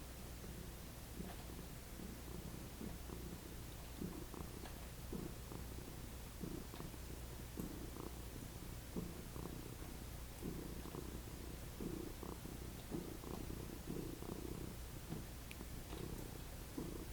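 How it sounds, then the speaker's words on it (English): A house cat purrs steadily and close by, a soft continuous rumble with gentle pulsing that runs unbroken under quiet room noise. "My cat's just purring along"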